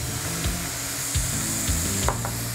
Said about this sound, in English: We're just gonna basically dry up the pan with the flour.